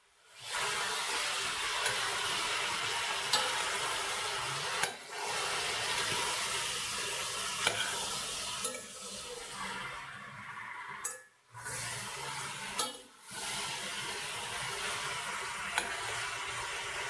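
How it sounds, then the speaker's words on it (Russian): Carrot and onion fry in a kazan on a stovetop with a continuous hissing sizzle, interrupted by a few short gaps and soft stirring sounds. "Теперь высыпаем морковку и лук. И перемешиваем."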